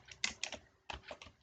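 Quick bursts of clicking keystrokes on a computer keyboard while a PostgreSQL database command is entered, close and crisp, in two short runs separated by a brief pause.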